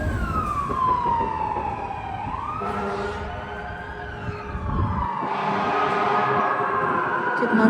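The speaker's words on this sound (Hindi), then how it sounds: "कितना शोर हो रखा है, मतलब इतने ज़्यादा क्या कहते हैं इन्हें, सायरन बज रहे." Several emergency vehicle sirens wail and sweep up and down at once in busy New York City street traffic, loud and close, layered over the rumble of engines and traffic.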